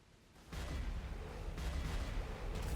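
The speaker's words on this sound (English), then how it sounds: "High-speed cannonball fire!" High-speed cannonball fire from a Cannoneer Black Mage in the video game Heroic Hyperion: a loud, dense, continuous barrage of booming shots that starts abruptly after a brief quiet moment and keeps rolling without pause.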